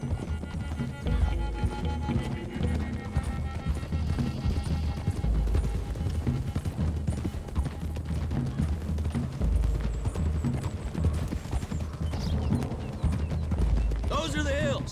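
Horses' hooves clip-clopping along a hilly road in the video game Red Dead Redemption 2, a steady running rhythm under game music, a voice talking over it.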